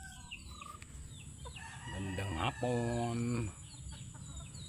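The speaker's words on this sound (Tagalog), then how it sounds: "Mga manok ko." Several chickens cluck and a rooster crows loudly nearby at night, with a brief spoken greeting early on.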